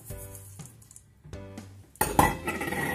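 A utensil clinks and scrapes in a bowl while whipped cream is mixed with crushed Oreo biscuits for a no-bake cheesecake. Light taps come first, then a louder burst of scraping near the end with no speech.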